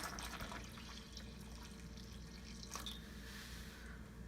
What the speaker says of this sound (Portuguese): Eu vou acrescentar a água fria.